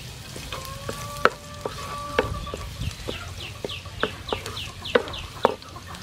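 Chopped garlic sizzling in hot soybean oil in a wok for a blue crab stir fry, a steady close crackle with sharp pops and spatula clacks, no talking.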